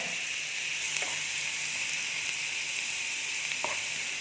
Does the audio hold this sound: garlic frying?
yes